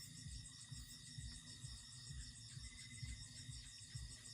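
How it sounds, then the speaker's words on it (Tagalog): Steady high-pitched cricket chirping fills the background at night in a rural farmhouse yard after heavy rain, a constant trilling layered over a low rhythmic thumping. "huni ng mga crickets"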